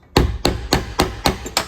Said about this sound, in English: Bend it over, I take a little ball peen hammer and just